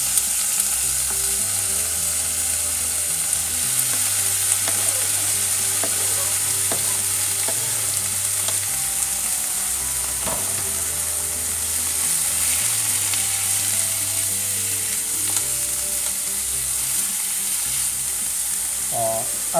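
Chopped mustard greens fry loudly in a pan for sarson ka saag, a dense continuous sizzle with repeated scraping stirs and occasional utensil knocks throughout.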